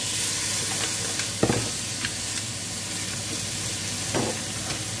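Onions and green beans fry in a pan with a loud, continuous sizzle, close by, and a few stirring scrapes break through. No one speaks.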